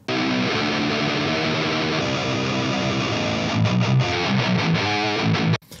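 Distorted electric guitar played through a 2002 Mesa Boogie 4x12 cabinet loaded with V30 speakers, a sustained heavy chord followed by a loud run of riff notes, close and full, ending abruptly.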